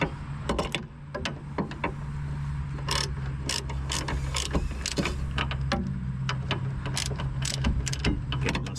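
Brake bolts are run down with a ratchet on the rear brakes of a 2008 Honda Ridgeline, a close, steady clicking of the pawl in quick bursts over a low background hum.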